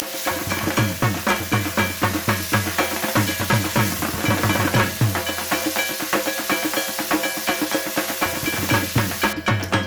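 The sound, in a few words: prawns frying in hot oil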